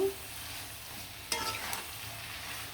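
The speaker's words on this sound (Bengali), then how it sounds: "মশলার সাথে খুব সুন্দরভাবে নাড়াচাড়া দিয়ে মিশিয়ে নেবেন।" Boiled taro stolons being stirred with spices in a pan for a prawn dish, a soft steady sizzle with one clear scrape of the spatula midway, no talk.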